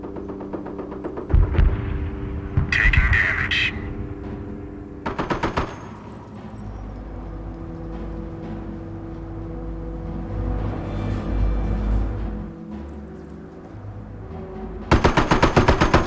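Machine gun fire from an MG nest in Company of Heroes, Normandy invasion: loud rapid rattling bursts separated by rumbling battlefield noise and heavy low booms, with a final sustained burst at the end.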